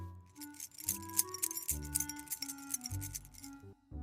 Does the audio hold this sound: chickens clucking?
no